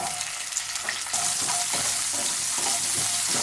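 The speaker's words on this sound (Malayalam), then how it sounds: "ഇതൊന്ന് വഴിച്ചെടുക്കാം ചെറിയുള്ളിയൊക്കെ ഇങ്ങനെ വഴിച്ചെടുക്കുമ്പോൾ നമ്മുടെ ഒരു പ്രത്യേക ടേസ്റ്റ് ആയിരിക്കും" Shallots sautéing in oil in a pan for Kerala sambar, a steady bright sizzle with soft stirring scrapes, close and continuous, no voices.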